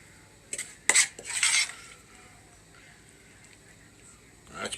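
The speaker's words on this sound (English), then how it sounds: "now we are gonna take a nice hearty scoop of them caramelized" A spoon scoops caramelized fruit out of a pan, giving a few sharp metallic clinks and scrapes packed into about a second, followed by a quieter pause and one more light knock at the end.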